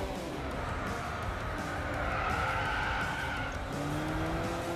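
A car in Gran Turismo 6 skids under abrupt braking in the compact sports car class, a steady, loud tyre-scrubbing squeal over continuous engine roar lasting throughout.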